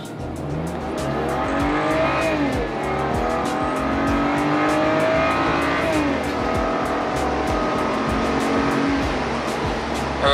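A 2011 BMW E92 with its muffler deleted accelerates hard, its loud exhaust note climbing steadily through the gears with brief shift dips, sustained and close for the whole stretch.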